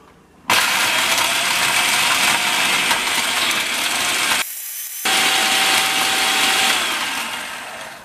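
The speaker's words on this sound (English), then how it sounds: "I'll get the food processor in sight so you can see the peppers and tomatoes being processed" A loud food processor whirs through peppers and tomatoes for homemade salsa, starting abruptly and running steadily with a harsh grinding roar, pausing briefly, then resuming before winding down, close by with no talking.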